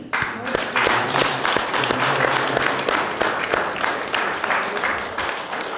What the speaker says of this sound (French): Et je pense qu'on peut déjà les applaudir.